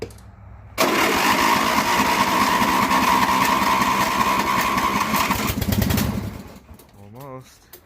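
A lawn mower snow plow engine cold-starting in winter, catching and running loud and close with a rough, steady roar for several seconds before dying away, followed by a brief quiet voice.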